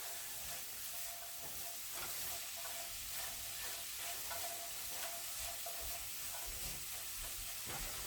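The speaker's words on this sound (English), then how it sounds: "Let's stir that about." Vegetables fry with a steady loud sizzle in a pot as a spatula stirs them, its scrapes and knocks recurring irregularly over the hiss, close by and with no voices.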